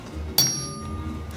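A single sharp metallic clink of a hammer striking a Land Rover Defender body skin panel pressed onto a steel dolly, ringing briefly before fading.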